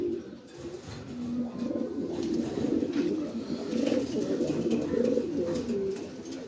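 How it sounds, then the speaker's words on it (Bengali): A male Lahori pigeon coos up close in a soft, throaty series of low rolling calls that repeat without a break, with light rustling and no voices. "একদম ন্যাচারাল কবুতর"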